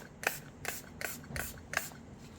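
Five short, evenly spaced hisses of a spray bottle misting 100% isopropyl alcohol onto resin crystal hearts, close and quiet against a faint background.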